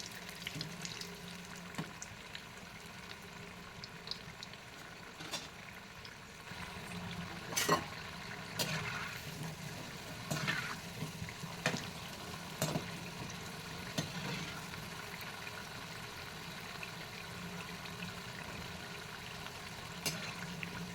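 Wheat flour bondas frying in oil over a medium flame, a steady soft sizzle running throughout, punctuated by a few brief louder clinks and scrapes as they are turned.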